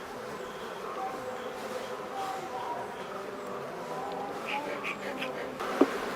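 Honey bees buzz at a hive in a dense, steady hum close by, with a few louder individual bees passing near.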